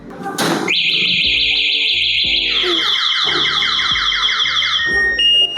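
An electric scooter's anti-theft alarm wails loudly and continuously in standard mode, its tone shifting between a steady siren and a rapid warbling chirp, with mechanical clunks underneath.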